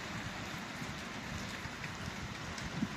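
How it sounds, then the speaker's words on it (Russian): Heavy rain pours down steadily during a thunderstorm on a cold April day, making a dense, even hiss with some wind noise. It plays for the whole stretch with no voices over it. "Надоели дожди, опять сегодня гроза у нас."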